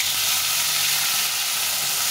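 Pointed gourd (potol) pieces frying in a pan with spices make a steady, close sizzling hiss that runs without a break and without speech.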